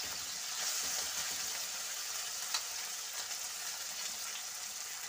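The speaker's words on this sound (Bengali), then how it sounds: "ছোট মাছ ভাজা কিন্তু খুবই ঝামেলা," Small morola fish frying in a hot wok give a steady, fairly quiet broadband sizzle that holds evenly throughout, with no voices over it.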